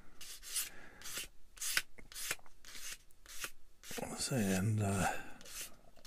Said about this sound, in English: Little sand.